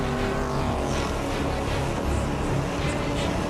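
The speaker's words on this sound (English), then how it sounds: "the race-leading Audi comes upon Pagenaud's slower teammate" Audi and Peugeot prototype race cars at speed on track, a dense, continuous engine roar with no pauses, loud and close throughout.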